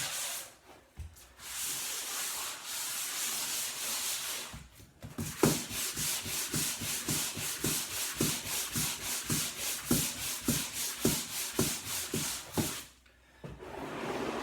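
An electric sander works across a wooden floor, giving a steady rough whir broken by brief pauses and a run of rhythmic rubbing strokes.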